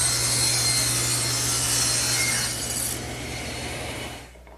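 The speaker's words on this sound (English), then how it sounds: "all I'm going to use is the table saw" A table saw cuts a 45-degree bevel on a wooden table leg, a loud, close, steady whining rip lasting about four seconds that eases off and stops at the end, with no talking.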